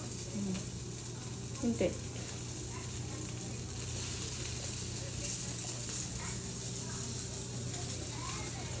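Ragada patties frying in oil on a pan, a steady close sizzle with a constant low hum beneath it, and a brief voice speaking over it near the start.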